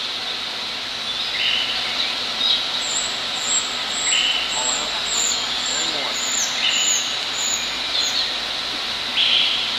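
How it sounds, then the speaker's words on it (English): Songbirds call throughout a busy indoor zoo tropics building with roughly 200 birds, high repeated chirps and whistles scattered across the clip over a steady hiss of ambient noise. "how wonderful it is to hear all the birds in the building right now"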